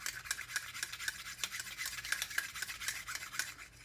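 The charging handle on a new AR upper slides back and forth with a faint, rhythmic metallic scraping and rasping, close up and quiet.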